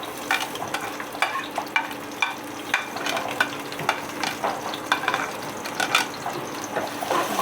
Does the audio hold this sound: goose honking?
no